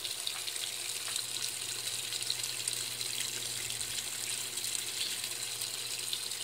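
A Brastemp Clean 5 kg washing machine filling with water, a steady hissing gush of incoming water that runs evenly throughout without pause, fairly close and alone.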